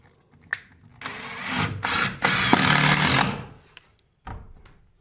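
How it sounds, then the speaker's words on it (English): A power drill drives screws through a board fixed across an open tread staircase, with short bursts and one long whirring run up close, separated by brief pauses and clicks. "I'm putting a board up here with"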